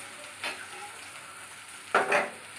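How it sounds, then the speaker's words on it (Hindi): Onion and spice masala frying in a pan for a rohu fish curry, with a low steady sizzle and two brief bursts of stirring, the second louder and longer. "तो देखिए मेरा प्याज और मसाला हल्का सा फ्राई हो गया है"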